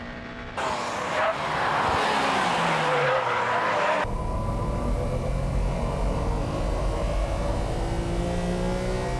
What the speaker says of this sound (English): The four-wheel drive cornering machine Impreza passes the R33.